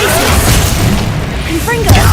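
An Incendio fire spell is cast in a Harry Potter video game, giving a loud, dense roaring burst that holds steady for about two seconds, with a brief thump near the end.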